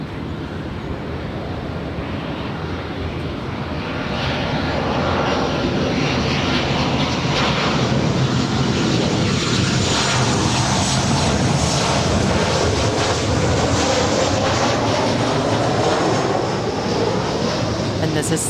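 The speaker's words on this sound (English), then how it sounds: "So we've got 3 heavies ready for departure." Heavy jet airliners roar loudly and continuously as they depart LAX, a broad engine rumble that swells after a few seconds and holds steady.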